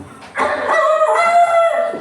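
A rooster crows once, loud and close, a long rising-and-falling call after a brief quiet moment.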